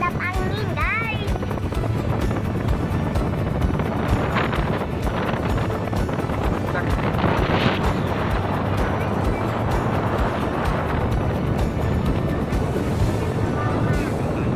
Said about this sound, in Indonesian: Ombaknya gede guys. Terhadap angin guys.